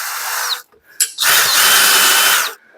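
A power drill with a D-bit boring into a handmade custom bike part, two loud close bursts of whining drilling separated by a short pause, with no talking.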